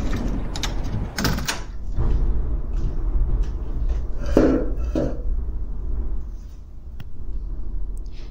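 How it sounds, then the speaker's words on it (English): A door is shut as a radio drama sound effect, with close clunks, knocks and rattling handling noises scattered through the clip. "Denny, can you get the doors there?"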